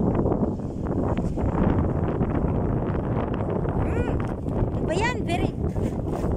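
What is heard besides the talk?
strong wind at a boat port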